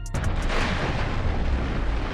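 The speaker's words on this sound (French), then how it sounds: "regardez cette explosion, c'est énorme" A booming explosion sound effect from a LEGO scene, replayed: a sharp burst at the start followed by a loud, sustained rumbling roar that fills the whole stretch with no letup.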